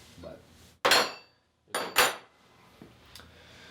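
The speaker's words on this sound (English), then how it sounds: "Open the mixing hopper and remove the mixing paddle." Mixing paddle pulled out of the hopper of a Komby combination pasta machine, giving a few sharp metallic clanks and scrapes, two loud knocks close together after a quieter start, then a faint tap.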